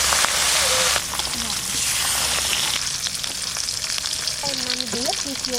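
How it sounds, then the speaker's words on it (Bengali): Hilsa fish pieces fry in hot oil in a wok with a dense, loud, crackling sizzle, while a voice speaks briefly over it toward the end. "তেল ওদিকে গরম হয়ে গেছে,"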